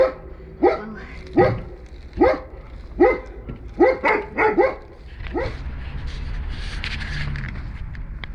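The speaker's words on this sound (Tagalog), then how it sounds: "Mga aso." A dog barks sharply about ten times at a steady, uneven rhythm, fairly close, then the barking stops and faint background noise remains.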